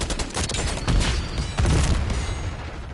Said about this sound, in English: Guess the explosions really are there.